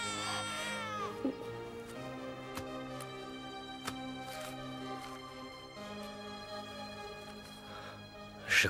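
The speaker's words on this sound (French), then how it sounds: "C'est bien un bébé qu'on entend." A baby crying in a French-dubbed television drama, a faint thin wail at a distance beneath a tonal music bed, with a brief louder cry near the end.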